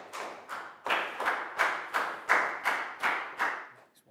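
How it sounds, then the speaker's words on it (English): A primary school class claps together in a steady rhythm, about ten even, evenly spaced group claps in a row, close and crisp, with no voices over them. "big round of applause for Pakpoon, guys."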